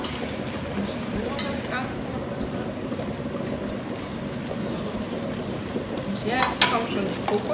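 Vegetables gently sautéing in a covered wok, a steady soft hiss and rustle holding at an even level throughout, with a few brief clatters near the end.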